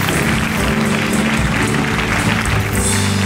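A church congregation claps together in a loud, dense, continuous wash of applause filling the room, with crowd noise mixed in.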